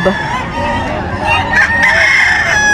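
Roosters crow loudly and close together at a busy poultry market in Bocaue, several birds overlapping in long ringing calls over a steady crowd din, with voices murmuring underneath.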